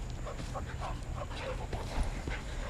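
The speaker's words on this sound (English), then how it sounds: "neither one of these dogs are stressed at all by each other's play" Two dogs play-wrestle up close with jaw-wrestling, making short growls, snorts and yips amid scuffling and panting over a constant background noise.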